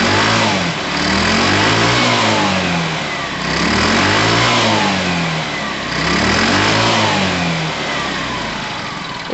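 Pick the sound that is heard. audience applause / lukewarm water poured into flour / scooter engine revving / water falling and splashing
scooter engine revving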